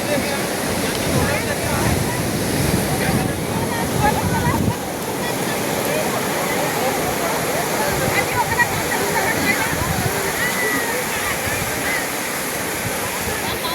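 Sea waves roll onto Digha beach where fishermen haul their catch ashore, a loud, constant roaring wash of surf with voices faintly mixed in.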